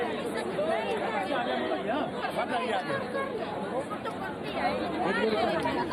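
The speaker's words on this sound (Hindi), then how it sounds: "भारी तादाद में लोग पीएम मोदी को देखने के लिए वहां पर पहुंचे हैं और वहां पर देख सकते हैं कि इस वक्त काफी भीड़ भी है।" Large crowd at a PM Modi roadshow in Shillong, Meghalaya: a dense, steady hubbub of many voices chattering and calling out together, loud and continuous throughout.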